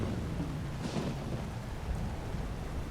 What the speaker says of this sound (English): Wow, the wind is really howling. The storm is picking up.